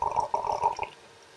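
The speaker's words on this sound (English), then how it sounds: "This is the first time I've used it to pour a drink" A drink poured from a vintage 1966 Dalex drinks pourer, giving a short gurgling, bubbling run of liquid that lasts under a second and then stops, leaving quiet.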